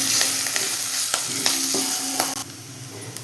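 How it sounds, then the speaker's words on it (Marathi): Onion frying in oil with curry leaves over medium heat, a loud continuous sizzle with a few clicks and scrapes of a spoon stirring through it. "आपल्याला आता मिडियम गॅसवरती कांदा हलकासा गोल्डन होईपर्यंत या तेलामध्ये चांगला परतून घ्यायचा आहे"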